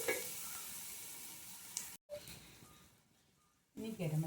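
Garlic and other ingredients sizzle and get stirred in a pan for a chicken dish, a close steady frying hiss with brief scraping, broken by a short gap.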